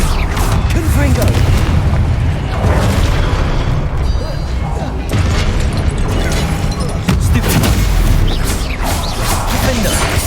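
A Confringo spell blast in Hogwarts Legacy, with heavy booming explosions over a constant wall of loud battle noise and rumbling effects.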